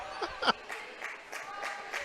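A high school boys' basketball crowd in the DeQueen gym, Arkadelphia at DeQueen, lets out fairly faint, uneven bursts of cheering and clapping that swell and fade in quick waves.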